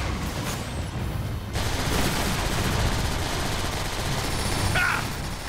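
Sustained heavy gunfire during a boss battle in the PC game Transformers: War for Cybertron, a dense continuous barrage of rapid shots with booming impacts, loud throughout.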